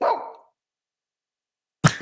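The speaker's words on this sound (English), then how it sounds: "Good dog." A dog named Eugene lets out two barks, one at the very start and one near the end with silence between them, close and clear with no talk.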